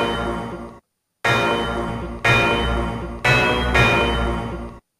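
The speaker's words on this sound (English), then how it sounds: "You hear how loud that bell sound got?" A bell sound in a music track made in FL Studio rings out in three loud, sustained hits after a brief gap, each decaying slowly with no voice over them.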